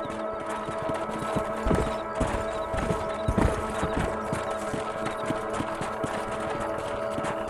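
Horse hooves clip-clop at a steady trot while riding in Red Dead Redemption, a continuous rhythmic drumming up close with a low background hum.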